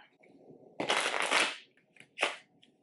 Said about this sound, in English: I'm gonna go get my deck of cards, shuffle them